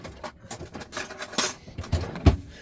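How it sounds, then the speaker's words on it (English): A spoon stirs hot chocolate with honey in a cup inside a camper van, making a few close clinks and scrapes of metal against the cup in an irregular rhythm, with no one speaking. "Now I'm going to put a little bit of honey in my hot chocolate, because why not?"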